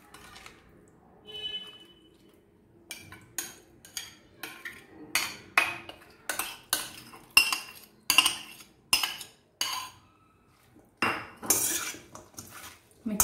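Kimchi-style salad vegetables are tossed in a mixing vessel, with a run of sharp clinking and scraping knocks as a utensil strikes the bowl in quick irregular bursts, close and fairly loud with no speech.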